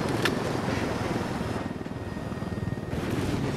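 Helicopter in the PS4 game Ghost Recon Wildlands, a steady rotor drone with engine rumble lasting throughout, moderately loud and mixed with other game sounds.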